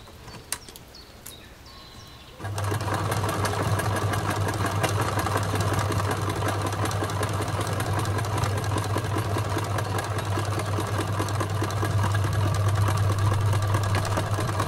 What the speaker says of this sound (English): now I'm going to sew the side of the face to the front of the face